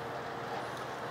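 A boat passes on a river, its engine a continuous low rumble and wash that holds steady across the short stretch with no voices.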